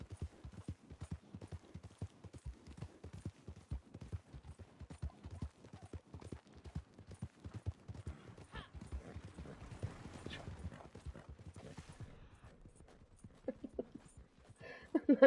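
Steady clip-clop of horse hooves from riding in a video game, a brisk regular rhythm at close range that carries on throughout, with a brief whinny-like sound and a rise in busier noise near the end.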